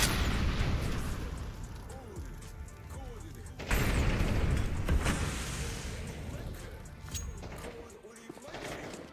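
A Counter-Strike 2 flashbang grenade goes off amid loud, dense in-game noise, and a sharp burst about midway stands out over the steady rumble of the match.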